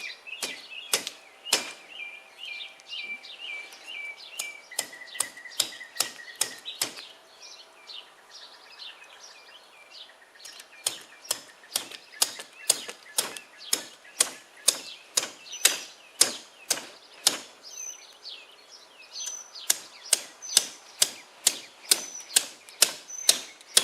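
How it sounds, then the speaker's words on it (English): A thick-handled meat cleaver scraping the top layer of scales off an alligator gar, from tail toward head: steady rapid series of sharp, close scraping strokes with brief pauses, no voices. "I'm going to take this thick handled meat cleaver right here and we're going to cut the top layer of scales off of them"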